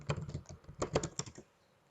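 A command being typed on a computer keyboard while partitioning a pen drive, heard as a brief run of soft, close keystrokes over about a second and a half, then quiet.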